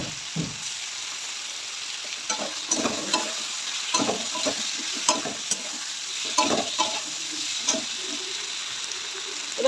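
Cumin, coriander and chili paste frying in a pan for a paneer, potato and pea dalna, with a steady sizzle and repeated scraping stirs of a spatula against the pan, fairly close and continuous.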